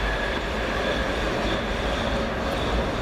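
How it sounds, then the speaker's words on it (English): A subway train departs outdoors, a steady broadband rumble of rolling cars and wheels that holds evenly throughout, with no talk. "And there's a subway that's departing."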